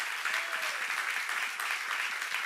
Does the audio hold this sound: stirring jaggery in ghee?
no